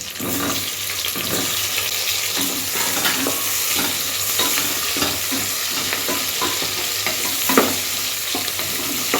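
Washed, peeled mushrooms stirred and fried with onions in a pan, a steady close sizzle running throughout with repeated scraping strokes of the spoon.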